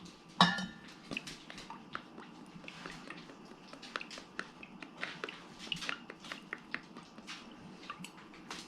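A utensil mixing perch batter seasonings and Tapatio hot sauce in a bowl, with a sharp clink at the start, then irregular scraping and tapping strokes continuing close and faint throughout.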